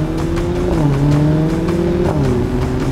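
A car engine runs loud and close, holding a steady, revving drone as the car pulls away for a ride, with no voices over it.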